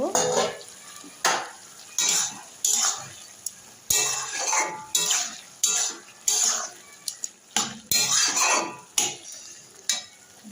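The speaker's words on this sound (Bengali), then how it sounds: "এবার চিংড়ি মাছটা দিয়ে দেব ভালো করে মিশিয়ে নেব" Prawns are tipped into a pan and stirred in with a thin layer of cooking liquid, giving repeated short scraping and clattering utensil strokes against the pan over a faint sizzle, close and fairly loud.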